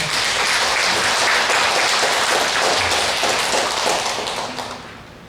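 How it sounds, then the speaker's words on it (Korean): Congregation at a Sunday church service claps for the Hallelujah choir, a steady broad wash of many hands clapping at once, close and full, fading gradually toward the end. "우리 할렐루야 성가대를 위해서 한번 박수를 한번 격려하겠습니다"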